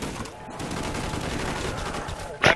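Rapid automatic gunfire from the Death Machine weapon in a zombies video game, a dense continuous stream of shots with a louder burst near the end and no talk over it.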